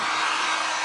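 A hair dryer blows steadily and loudly up close to dry resin on a pumpkin, a continuous broad whoosh with no talking.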